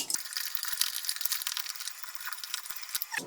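Water is poured a little at a time into red velvet cake mix in a bowl, giving a soft, close trickling and splashing for a few seconds, quiet and without talk.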